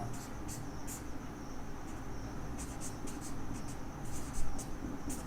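A pen writes out a math solution in faint, intermittent scratching strokes over a steady low room hum.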